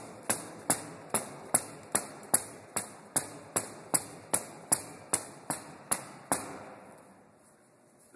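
A rope-handled slam ball strikes the floor from side to side during Russian twists, about fifteen sharp, evenly spaced thuds, each with a short ring, followed by a fading tail of quiet.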